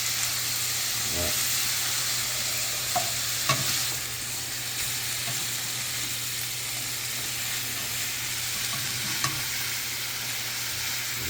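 Food sizzles in a pan on a stove, a constant loud hiss with a low hum and a few utensil taps at scattered moments.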